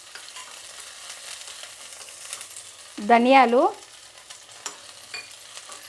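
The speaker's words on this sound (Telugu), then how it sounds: "ఈ మసాలా వేయించుకునేదానికి కొద్దిగా ఆయిలు, పచ్చిమిరపకాయలు, అలాగే అల్లం ముక్క, తెల్లగడ్డ, ఈ 3 వేయించుకుందామండి ఫస్ట్." Spices, green chillies, ginger and garlic frying in oil, with cinnamon, cloves and coriander seeds in the pan, give a steady soft sizzle throughout, broken by a single short spoken word in the middle.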